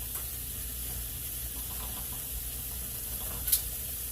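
Apples fry gently in a pan with butter and rendered lard, producing a soft, even sizzle that holds steady throughout, with one brief louder tick near the end.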